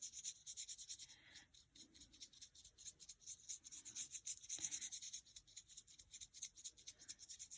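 Mica powder being rubbed over Versamark ink through a stencil, soft, close, continuous brushing and scrubbing strokes in an uneven rhythm, quiet and without talk.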